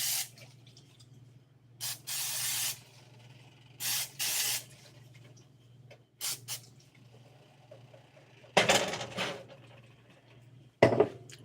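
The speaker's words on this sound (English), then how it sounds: "This is a olive oil cooking spray." Several short bursts of olive oil cooking spray hiss from a can, spaced apart with quiet gaps, close and fairly loud, ending in two final sprays.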